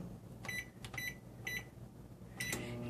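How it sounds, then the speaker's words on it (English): Yarn soaked in cake dye heats inside a microwave oven, a steady hum running throughout with a few short electronic beeps clustered near the start and end. "then you're going to throw it in your microwave"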